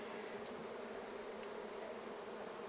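Honey bees buzz around a hive box in a steady, faint, continuous drone, with no voices heard.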